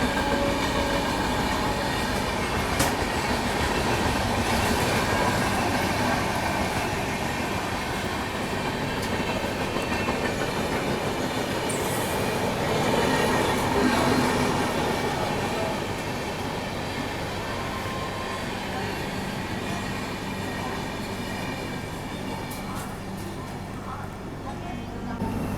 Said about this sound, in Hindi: निजामुद्दीन पुणे दुरंतो एक्सप्रेस अभी स्किप करते हुए जा रही है मथुरा जंक्शन